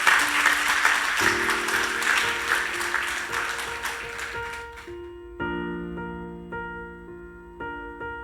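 A church congregation claps together, dense loud applause for about five seconds that fades out as organ or keyboard chords carry on alone.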